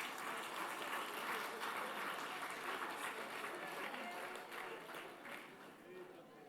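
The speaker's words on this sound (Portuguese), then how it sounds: "aplauda Jesus" A church congregation claps and applauds together at a Portuguese-language service. The sound is a dense, fairly quiet wash of hands that holds steady, then thins and fades toward the end.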